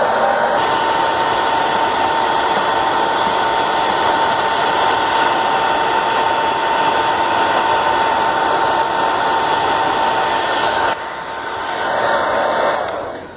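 Hair dryer blowing hot air onto a sticker to loosen it for removal, a loud, steady close whir with a brief shift in tone near the end.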